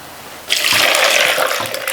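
Cold water gushes from a tap into a flower vase, a steady rushing fill that starts abruptly and stays loud and close for over a second with no talk.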